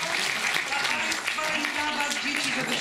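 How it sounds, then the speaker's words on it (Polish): Audience applause at a children's awards ceremony, steady dense clapping filling the hall throughout, with a faint voice underneath. "Brawa dla pędzających."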